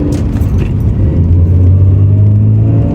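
A stock 1990 Toyota Cressida MX83 drives along with a steady, loud low engine and road rumble, a droning hum holding under a constant wash of tire and wind noise, with no voices.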